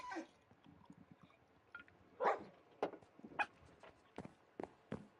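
Dogs in the Minecraft video game giving scattered short barks and yips at medium loudness, spaced irregularly with quiet gaps between them, with no talking.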